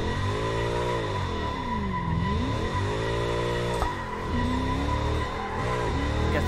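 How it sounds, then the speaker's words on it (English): A supercharged drift car with adjustable boost in Assetto Corsa, its engine droning loudly and steadily, pitch sweeping up and down as revs rise and fall through a slide, with crackles popping through and tires squealing. "Love how this engine sounds and the crackle."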